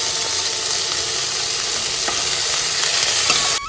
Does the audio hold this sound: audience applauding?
no